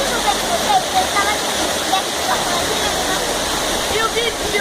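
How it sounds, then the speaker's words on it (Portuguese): The Cachoeira de Recreio waterfall produces a loud, steady broadband roar of falling water, constant and close throughout with no pauses. "o vídeo de hoje é Cachoeira de Recreio!"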